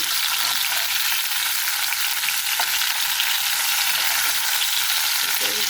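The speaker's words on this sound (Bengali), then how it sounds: "এরপর এটা ভেজে নেব এই যে এরকম করে ভেজে নেব একটু বাদাম বাদামি করে" Flour-coated pointed gourd fries in hot oil, giving a continuous, loud crackling sizzle up close with no talking.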